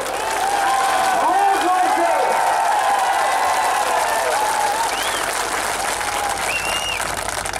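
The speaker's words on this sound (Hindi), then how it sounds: "पहले राहुल गांधी को आप ताली देकर नमन कीजिए" A large crowd at a Congress political rally in Tripura applauds loudly and without a break, a dense wash of clapping mixed with cheers and scattered voices.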